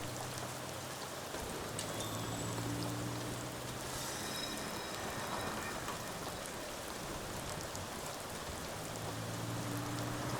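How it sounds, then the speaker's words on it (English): Heavy downpour in the video game NORCO, rain running into a drainage canal: a steady, dense wash of rainfall hiss lasting throughout, with low tonal hum underneath and no voices. "Downpour finds its way into the drainage canal, its water level slowly rising."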